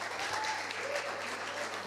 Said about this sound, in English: give a big round of applause to my colleagues